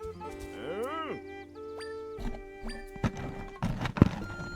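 A horse in the Zelda: Echoes of Wisdom video game lets out a clear, rising-and-falling neigh, followed by a run of hoof clip-clops and a few sharper thuds.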